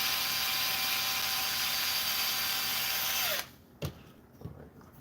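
A cordless power drill whines steadily at high speed while driving screws into the bulkhead of a Kraton 6S RC car, then cuts off abruptly, followed by a few faint clicks and handling knocks.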